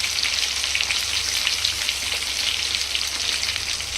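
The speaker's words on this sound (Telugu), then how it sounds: "ఇలాగ ఆయిల్ వేసుకొని డీప్ ఫ్రై చేస్తున్నాము" Chicken joints deep fry in oil in a steel pan, giving a steady, close, crackling sizzle that stays even throughout with no talk.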